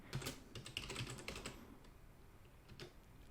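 A password is typed on a computer keyboard in quick, quiet clicking keystrokes for about a second and a half, then after a pause one last key is tapped.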